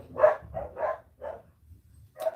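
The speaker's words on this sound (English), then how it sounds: "Dog was barking." A dog barks four times in quick succession, fairly close, followed by a pause and one more bark, over a quiet indoor background with no talking.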